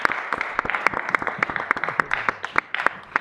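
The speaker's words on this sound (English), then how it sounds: "How about a round of applause?" Applause at a county board meeting, a scattered round of hand claps with sharp irregular hits over a steady patter, moderately near, lasting about three seconds with no talking.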